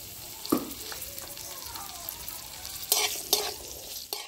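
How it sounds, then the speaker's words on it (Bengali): Garlic, ginger, tomato and onion fry in mustard oil in a kadai, giving a steady soft sizzle with a few louder scrapes and stirring clatters near the start and toward the end. "এবার আমি রসুন, আদা, টমেটো আর পেঁয়াজটা হালকা করে ভেজে নেব।"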